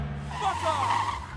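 Car tires screech in a near collision with another motorist, a short, piercing squeal rising over a low engine rumble while a voice talks over it.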